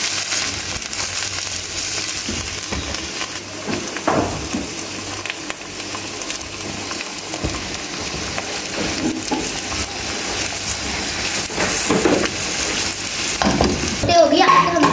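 Food sautés in a pan with a constant loud sizzle. A spoon stirs and scrapes it over and over, and occasional clatters sound as the ingredients are tossed.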